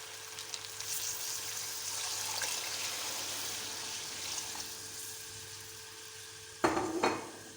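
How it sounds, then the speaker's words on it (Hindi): Masala for chana pulao sizzles steadily in a hot pan, then water poured in near the end sets off a sudden loud hiss and bubbling burst that quickly fades. "अब मैं इसमें पानी डाल दूँगी।"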